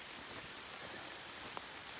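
Light rain falls on a pine-straw forest trail at Lake Lurleen State Park in October, a soft, even hiss with a single faint drip standing out near the end.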